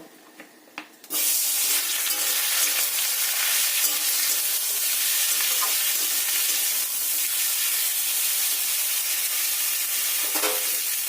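Pieces of teasel gourd hit hot mustard oil and set off a loud, continuous sizzle that carries on close and steady after a short quiet start.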